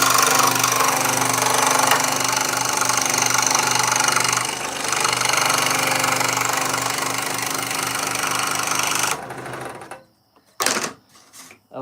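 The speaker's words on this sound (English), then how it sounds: "we'll see how well I can cut it out on the scroll saw" A scroll saw cuts out a wooden shape with a loud, close, rapid reciprocating buzz that holds steady for about nine seconds before shutting off, leaving a few faint knocks.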